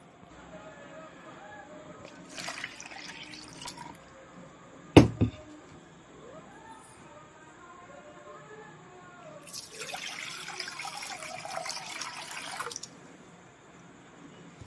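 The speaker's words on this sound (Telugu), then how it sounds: "నేను ఈ వాటర్ని రీప్లేస్ చేస్తాను." Water is poured out and replaced in a soil-free microgreens growing tray, with two soft bursts of pouring and trickling, a sharp knock between them, and faint drips in a quiet room.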